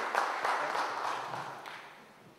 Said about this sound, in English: please give a huge round of applause to Mr. Saral Mukherjee